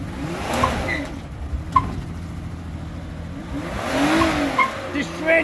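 A Mazda MPV revs hard during a burnout, its engine rising and falling in surges with tire squeal and a hazy roar, while voices talk over the noise.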